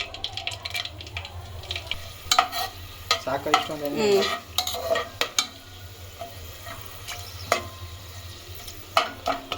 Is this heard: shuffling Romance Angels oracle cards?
no